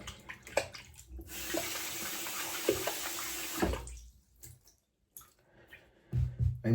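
Water running from a sink tap for washing the face, a steady rushing flow for about three and a half seconds, then near silence and a few faint clicks and splashes.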